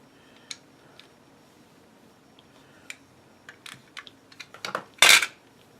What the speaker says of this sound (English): I'll take my knife, cut off the ends